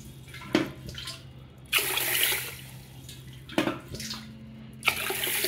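Water is poured over lentils in a bowl to soak, coming in several short splashy bursts separated by brief pauses, close and moderately loud.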